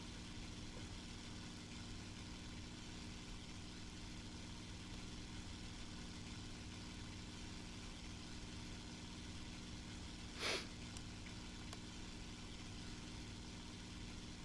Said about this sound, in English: The engine sounds similar to the Mustang, yeah?